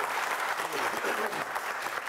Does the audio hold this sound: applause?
yes